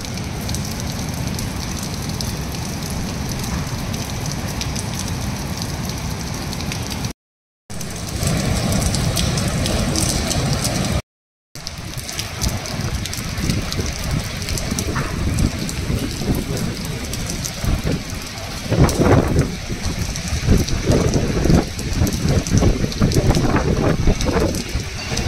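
Heavy monsoon rain falls steadily at a Ratnagiri resort during a red alert, a loud continuous roar of drops with low rumbling, broken by two short silent gaps.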